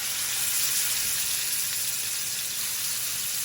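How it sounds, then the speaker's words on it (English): Fish fillets sear in extra virgin olive oil in a hot cast iron pan, giving a steady, dense sizzle that stays close and even throughout, with no voices. "I'm going to add a couple tablespoons of extra virgin olive oil to that, and I'm going to put my fillets right in."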